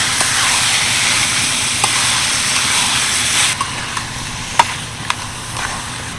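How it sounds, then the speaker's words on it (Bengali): Boiled chickpeas and potatoes tipped into frying masala in a mud-walled kitchen, a dense hiss that quiets partway through, leaving sparse spoon clacks and scrapes as everything is mixed. "এবার আমি সিদ্ধ করে রাখা কাবলি ছোলা আর আলু দিয়ে দিচ্ছি ভালো করে মিশিয়ে নেবো"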